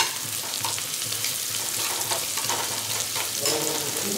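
Whole bay leaf, dried chilli and cumin seeds sizzle and crackle steadily in hot oil, a close, continuous frying hiss with occasional stirring.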